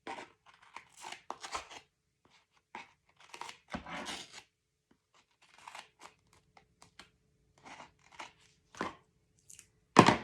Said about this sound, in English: I'm just going to cut this little piece off.